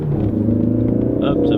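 A restyled Peugeot 308 engine idles steadily with a low, even rumble close by, and a few faint higher clicks come through near the end.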